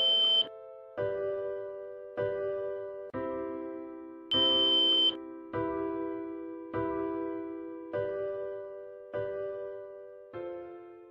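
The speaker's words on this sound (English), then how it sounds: "After the third fingerprint, there will be a long beep and the LED will blink green for 1 second." Samsung biometric fingerprint digital door lock sounding a series of about nine clear electronic chime tones, evenly spaced and each fading quickly, two of them brighter and higher, heard alone in a quiet room.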